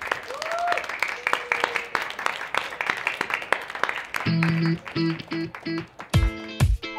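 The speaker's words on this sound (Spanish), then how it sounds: "Un aplauso para Maya, por favor." An audience claps for a speaker at a Spanish-language talk, a burst of scattered clapping under raised voices, followed by loud shouted voices.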